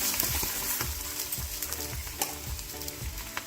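A freshly flipped green chickpea paratha fries on a hot pan with a constant close sizzle, punctuated by soft, regular thumps as it is worked against the surface.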